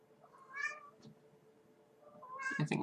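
A house cat meows twice, a short rising cry followed after a pause by a louder, closer meow with some rustling at the end, against a quiet room.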